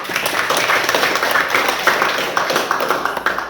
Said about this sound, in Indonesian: tepuk tangan untuk Andika.